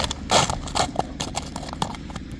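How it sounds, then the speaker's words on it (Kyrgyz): A dark bay horse gallops nearby, its hooves drumming a quick, steady clip-clop rhythm on the ground, fairly loud and alone. "жүгүрүшүн көрүп коюңуздар аттын"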